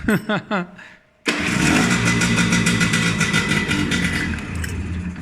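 A Gilera Crono motorcycle engine cranks a few times, catches with a sudden roar, then runs loud and steady at a rough idle, close by, indoors.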